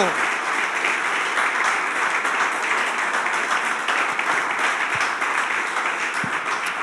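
A church congregation breaks into sustained applause, a dense, steady wash of many hands clapping throughout, loud and even with no pauses.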